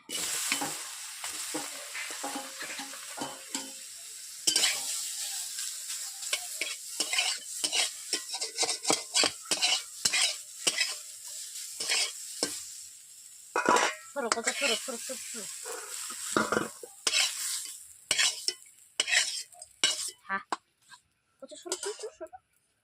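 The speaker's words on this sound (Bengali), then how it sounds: "এরপর ভেজে নিচ্ছি উচ্ছেগুলোকে।" Bitter gourd fries in sizzling oil in a pan while a utensil stirs and scrapes, with frequent close clinks and knocks against the metal.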